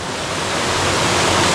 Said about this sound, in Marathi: पाठीमागे पाण्याचा मस्त आवाज येतो आहे